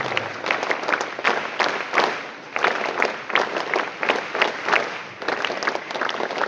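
Audience applause at a school assembly during a badge and sponsorship ceremony, a steady, dense round of clapping from a crowd lasting several seconds with slight swells and dips.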